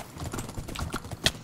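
Horse hooves clip-clopping in a Minecraft-style video game, a quick run of hollow clopping steps close by over about a second and a half.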